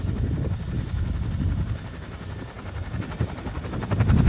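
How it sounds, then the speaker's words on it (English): A helicopter climbs in a gentle corkscrew into a hover, a steady close rotor and engine roar that builds louder toward the end, with no talking. "As the aircraft gently corkscrew climbs into the hover"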